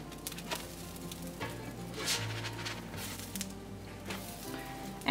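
Pumpkin spice pancakes sizzle softly on a griddle just after being flipped, a steady low frying hiss with faint spatula taps and patters, quiet and with no voices.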